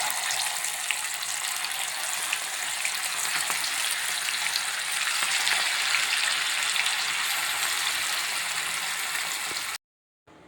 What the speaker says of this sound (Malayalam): ബാക്കി വരുന്ന ചിക്കന് ഇതുപോലെ ഒന്ന് ഫ്രൈ ചെയ്തെടുക്കുക.